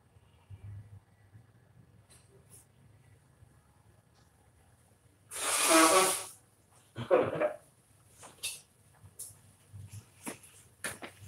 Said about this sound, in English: Y'all hear me blowing my nose?